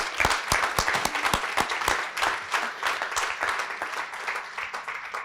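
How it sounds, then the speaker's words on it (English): Audience applause at an opioid task force summit, a steady wash of many hands clapping with a few sharp, close claps standing out, sustained and fairly loud throughout. "Another round of applause for our."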